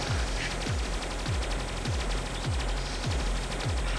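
Machine guns fire rapidly in the space game Stellar Interface as a fast, continuous burst of shots. Regular low thumping impacts about every half second sit under a dense, loud mix of game sound effects, and no one speaks.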